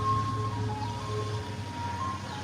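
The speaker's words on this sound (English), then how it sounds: "Let me let the ice cream man truck go by." An ice cream truck passes nearby, its tinkling tune carried over a steady low engine rumble and road noise that fill the background throughout.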